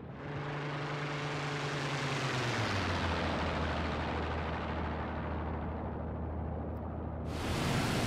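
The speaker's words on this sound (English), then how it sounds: "That's a Spitfire." Spitfire fighter plane in IL-2 Great Battles roaring past, its engine note swelling loud and steady, dropping in pitch as it passes, then cutting off abruptly near the end.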